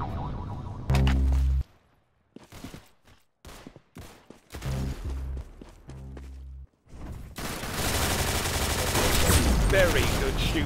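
Gunfire in the Roblox shooter game Arsenal, several clusters of rapid synthetic shots separated by gaps, then a continuous loud barrage of effects, with voices speaking in between.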